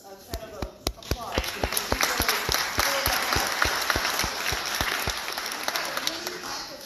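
A meeting audience at a school redevelopment gathering breaks into applause, sharp individual claps at first that quickly swell into a dense, lively round of clapping from the crowd.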